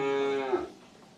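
A dairy cow lets out a single loud, close moo during milking on a cheese-making farm, its long drawn-out call sliding down in pitch before breaking off, with no talking over it.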